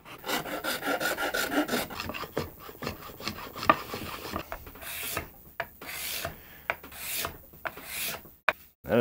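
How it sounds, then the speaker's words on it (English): A spindle sander flattens a wooden guitar headstock of flamed maple and redheart, producing an uneven rasping grind with bursts and pauses, close and moderately loud. "we're over at the spindle sander now, and we're just going to flatten this headstock out real quick"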